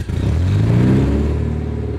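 A Citroën C6 engine turns over and catches, then revs up loud and close with a deep rumbling growl that settles into a steady idle.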